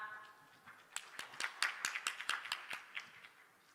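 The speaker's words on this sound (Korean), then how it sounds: "박수로 환영하겠습니다" A church youth congregation welcomes a preacher with faint, sparse clapping, a few distinct hand claps in a loose rhythm that build briefly and then fade.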